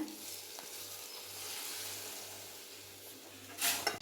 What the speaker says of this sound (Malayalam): ഇതിലേക്ക് പൊരിച്ച് വെച്ച ബാക്കിയുള്ള എണ്ണ ഇതിലേക്ക് ഒഴിച്ചു കൊടുക്കുകയാണ്.